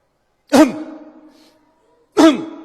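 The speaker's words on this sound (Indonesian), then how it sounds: "Berdehem yang benar itu perlu belajar." Two distinct throat clearings, close and dry, separated by a quiet pause with a faint trailing hum after the first.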